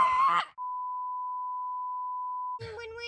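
A single steady electronic beep holds one unbroken pitch for about two seconds, set between brief bursts of voice before and after.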